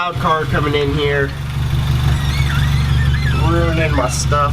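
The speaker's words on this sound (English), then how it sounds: "Who's this loud car coming in here?" A loud car engine idles nearby, a steady low rumble that runs throughout while a person talks over it.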